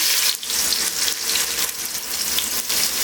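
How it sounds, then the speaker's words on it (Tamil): Mustard seeds and onions frying in hot oil for an egg gravy, a dense, steady, loud sizzle that hisses continuously up close with slight dips, no voices. "தேவையான அளவு எண்ணெய் ஊற்றிக்கலாம் கடுகு போட்டுக்கலாம் வெங்காயம் போட்டுக்கலாம்"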